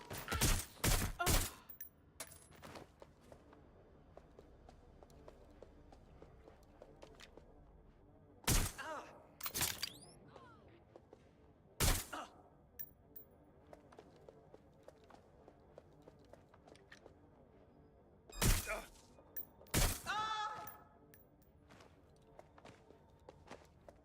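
Loud, sharp gunshot bursts from a first-person shooter game come in separate clusters against a quiet background, with no talk over them.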